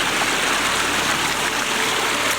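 River water flowing steadily in the Yorkshire Dales, a continuous close rushing and gurgling with no break and no talk.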